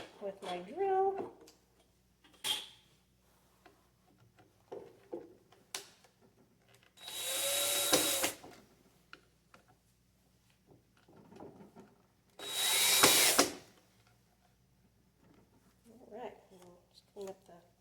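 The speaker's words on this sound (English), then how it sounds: "I'm going to go ahead and screw them in with my drill" A power drill drives screws into cabinet hardware in two loud, steady bursts of about a second each, separated by quiet handling and light tool clicks, with a person talking in between.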